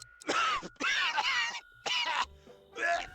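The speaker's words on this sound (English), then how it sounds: "Oh, he's coughing." A video game character, a man, coughs in several harsh, throaty bursts separated by short pauses, close and fairly loud, with a faint tonal hum underneath.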